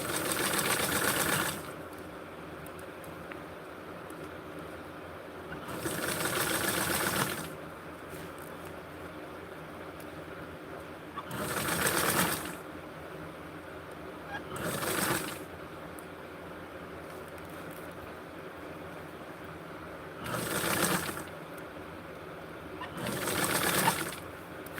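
A sewing machine stitches across a fabric casing in bursts, six separate runs of steady whirring separated by quiet pauses, close and fairly loud.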